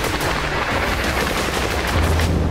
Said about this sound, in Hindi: ऊपरी गैलिली में हिजबुल्लाह ने 40 रॉकेट से धमाके किए।